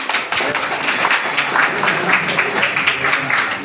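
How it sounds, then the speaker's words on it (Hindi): Audience applause at an honouring ceremony where guests receive turbans: a dense, steady wash of many hands clapping, loud and close, lasting a few seconds without speech. "तालियां बजाएं।"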